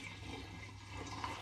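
Tomato paste wash pours steadily from a jug through a filter and funnel into a demijohn, a continuous soft liquid rush with a slight gurgle, close and unbroken, with no talk.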